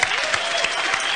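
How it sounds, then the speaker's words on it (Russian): A studio audience on an Italian-style wheel-of-fortune game show claps in a brief, steady burst of dense applause. "итальянское поле чудес под ваши аплодисменты."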